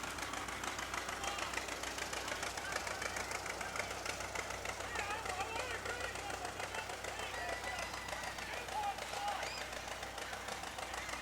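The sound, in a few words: 1954 Minneapolis Moline tractor engine running in parade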